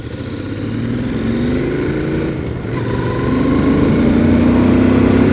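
A Royal Enfield Interceptor 650 motorcycle's modern twin engine runs steadily and builds gradually, with rising revs and a brief dip midway before the drone strengthens again.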